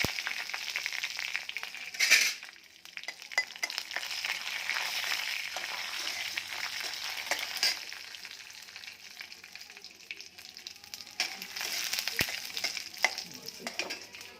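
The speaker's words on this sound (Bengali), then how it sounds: "এই যে জিরা নিয়েছি, জিরাটাকে ফোড়ন দিলাম, লঙ্কা ফোড়ন দিয়েছি" Cumin seeds and dried chili tempering in hot oil, a steady close crackling sizzle running throughout with occasional stirring scrapes and brief louder pops.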